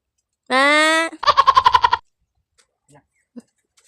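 A goat lets out a long nasal bleat, then a quick stuttering series of bleats, followed by near silence with a few faint clicks.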